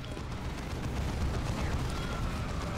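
The double plasma cannon in the strategy game Dawn of War 2 fires with a sustained, roaring, rumbling blast that fills the short stretch at moderate loudness.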